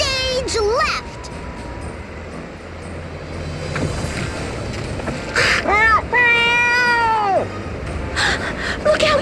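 A cartoonish cat character meows in Bravely Second on the 3DS, with several stylized rising and falling meow-like calls over game music and voiced dialogue.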